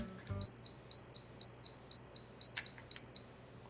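A compact digital timer alarm sounds six even, high-pitched electronic beeps in a steady on-off rhythm, close and clean in a quiet room.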